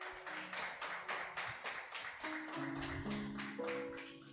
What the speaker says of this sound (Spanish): Dele un fuerte aplauso a Jesús por eso.